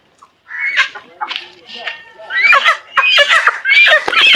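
Chickens clucking and squawking in a busy, overlapping chorus, growing louder and more agitated toward the end, with a voice speaking beneath.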